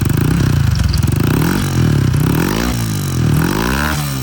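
An EX5 Dream motorcycle engine revs up and down repeatedly nearby, its pitch rising and falling in waves over a steady loud throb.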